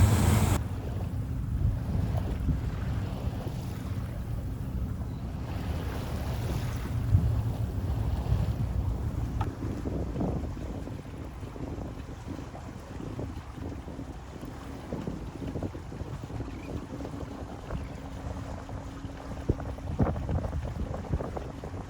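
A boat cruises across the water from Belvedere Island toward Sausalito on a morning run, a steady engine rumble under heavy wind buffeting and the wash of waves, continuous and with no voices.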